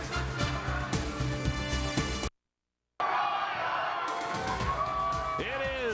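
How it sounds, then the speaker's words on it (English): A stadium crowd at Kauffman Stadium roars after a Royals World Series win, a loud sustained wash of cheering and yelling. It drops out briefly, then comes back with a commentator talking over it. "the crowd is pretty crazy here at Kauffman Stadium right now"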